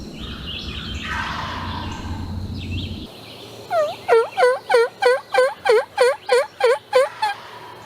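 A wild turkey gobbler in the Virginia woods, about 50 to 60 yards off, gobbles in a rapid burst of about ten rattling pulses. The gobbles ring out loud and clear against quiet woods, after a stretch of softer ambient noise.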